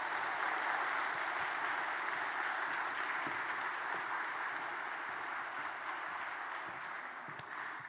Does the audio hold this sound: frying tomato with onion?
no